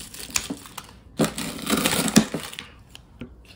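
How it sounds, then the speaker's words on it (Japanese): Scissors cutting through chewy Busan-style tteokbokki rice cakes in a Seoul eatery, a few close, crunchy snips and squishing crushes in quick succession, with no speech over them. "これはこういうハサミでちょっと切っちゃおうかな。"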